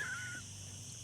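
A person imitates Donald Duck's voice with a short, squawky, quacking burst at the start that quickly fades into quiet room noise.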